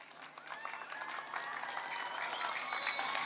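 An audience at a school graduation ceremony applauds a teacher's award, a soft, distant patter of clapping under faint tonal music that swells slightly toward the end.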